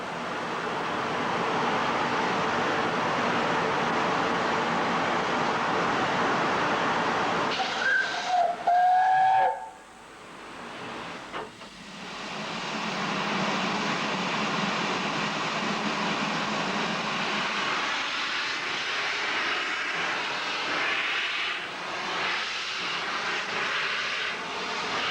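Steam locomotives stir at dawn on the Bluebell Railway, a steady roar of hissing steam and idling engines with a sharp whistle-like squeal midway, a brief lull, then the broad rumble and hiss resuming close by.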